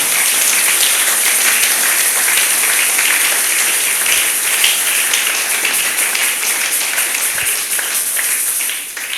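A church congregation bursts into sustained applause and clapping to acclaim the Lord, a dense, steady wash of many hands that stays loud throughout before easing slightly at the end.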